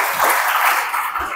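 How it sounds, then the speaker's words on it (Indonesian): A church congregation bursts into applause during a sermon, a dense wash of many hands clapping close and loud for a brief moment. "Kasih tepuk tangan untuk Tuhan."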